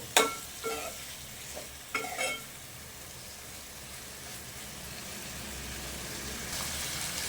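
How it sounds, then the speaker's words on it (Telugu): Liver curry frying in a pan with salt and chili powder: a steady, close sizzle that runs throughout, with a few sharp clinks of stirring near the start and just before the two-second mark. "ఉప్పు కారం పట్టే వరకు మంచిగా ఫ్రై అయితే చేసుకోవాలా"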